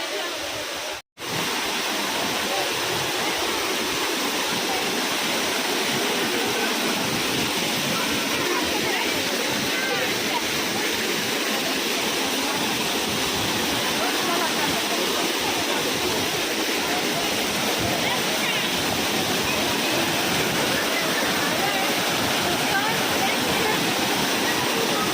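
Sanaghagara waterfall in Keonjhar pours in a steady, loud, unbroken roar of falling water, close by and constant for the whole stretch.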